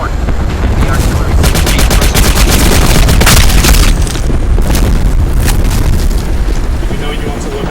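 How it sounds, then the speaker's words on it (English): Artillery explosions and gunfire in Company of Heroes 2, loud booms followed by rapid bursts of machine-gun fire and crackling shots. The battle noise stays heavy throughout, with a voice talking over it. "The artillery."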